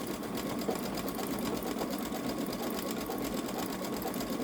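Baby Lock Solaris Vision sewing machine running steadily with a couching foot feeding yarn, a continuous fast mechanical whir and rapid needle ticking, close and even in level with no pauses.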